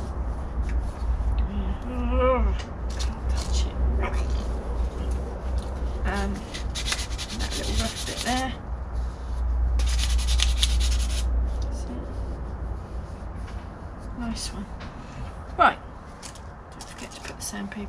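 Sandpaper rubs by hand on a Nissan Micra K10 number plate lamp in short, repeated scratchy strokes, close up, with brief pauses and a sharp knock near the end.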